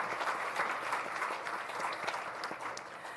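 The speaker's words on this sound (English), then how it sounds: "So a round of applause for the Painted Hand Casino." Awards ceremony audience at a film festival applauding a casino sponsor, a sustained crowd of clapping hands, even and moderately loud, with a few sharper individual claps standing out.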